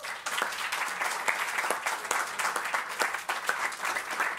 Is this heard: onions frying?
no